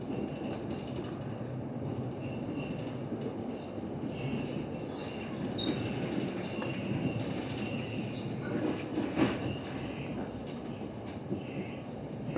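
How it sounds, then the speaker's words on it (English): A Leo Express train on the Prague–Krakow line crosses track points that are under construction, giving a continuous low rumble with rhythmic wheel clatter and faint high squeals. "we're going over some points that are basically under construction from the look of it"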